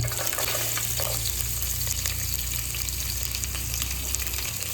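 Garlic and mustard seeds fry in hot coconut oil for a coastal chicken curry, giving a loud, constant, close sizzle with fine crackles and no talking.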